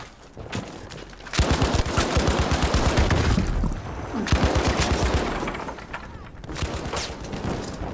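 Chadson rifle gunfire in Battlefield 5, loud rapid bursts of automatic shots repeating in several volleys, close and dominant over the game's background noise.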